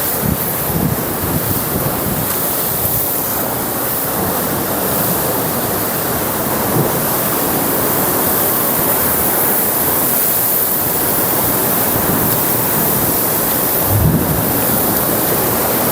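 Sea waves wash and splash inside a coastal cave, a loud continuous roaring rush with occasional heavier surges, mixed with wind buffeting and no voices.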